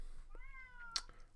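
A domestic cat gives one drawn-out, rising and falling meow, fairly faint, in a quiet room.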